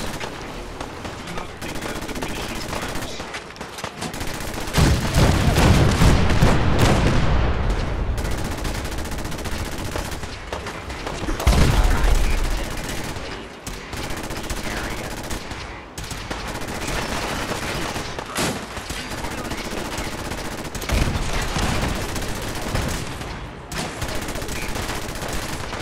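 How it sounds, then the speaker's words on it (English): Cannons aboard the USS Constitution fire in the video game Fallout 4, with repeated booming blasts and crackling volleys spread across the stretch, including heavier thumps at intervals, loud and close over continuous battle noise. "The cannons are ready. Fire at will."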